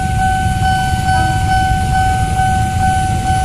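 A KRL commuter electric train rumbles past at close range along Jalan Mangga Dua Raya in Jakarta, a steady loud roar with a sustained two-tone horn held throughout.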